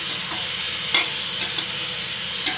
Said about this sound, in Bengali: তো এখন নাড়ছি।